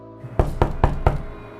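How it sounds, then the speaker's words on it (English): Four firm, evenly spaced knocks on a door, close and distinct, ringing briefly after each rap. "There was a knock at the door."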